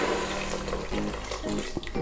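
Cold water pours from a tap into a pot holding dry samp, a continuous close splashing gush with a low rumble and some shifting tone as the pot fills.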